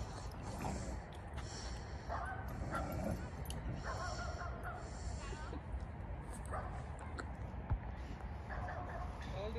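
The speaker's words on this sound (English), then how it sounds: "Beautiful dog." A one-year-old dog playing with other dogs gives short barks, yips and whimpers at intervals, fairly faint, while people chat nearby.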